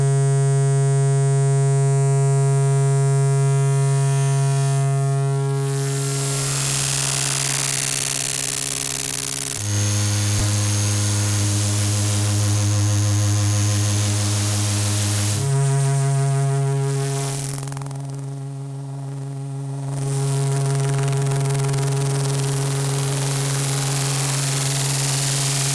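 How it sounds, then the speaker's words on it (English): Stylophone patched from its output back into its input, producing a loud, sustained droning feedback tone with strong harmonics that shifts pitch abruptly several times over about 25 seconds, with no talking. "wherever you have got an output and an input next to each other, you are only ever one cable away from unleashing a vicious feedback loop upon the world"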